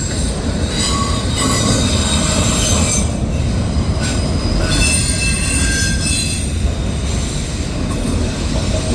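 A CSX autorack freight train rolls past on the Old Main Line near Sykesville, its wheels squealing loudly and continuously over a heavy rumble of railcars, close by, with no voices.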